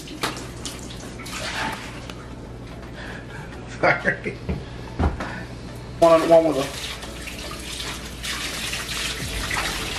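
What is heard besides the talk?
water filling a Red Sea aquarium tank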